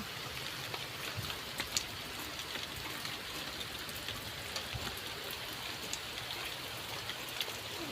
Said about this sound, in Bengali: অনেক বৃষ্টি হচ্ছে বাইরে